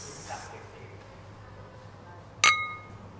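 Glasses meet in a single bright clink during a dinner-cruise toast in Ayutthaya, Thailand, leaving a short ringing tail over a soft background hum and faint murmur.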